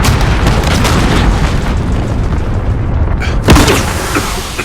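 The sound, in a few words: grenade explosion in video game Call of Duty: Modern Warfare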